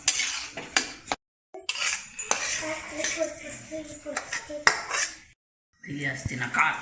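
Stirring and roasting in ghee in a metal pan: close, busy scraping and clinking of a utensil against cookware, with brief pauses of silence, no talk.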